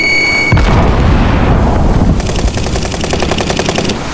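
Frag grenade blast and bursts of gunfire in a video game: a loud booming explosion followed by rapid, rattling shots, close and intense throughout.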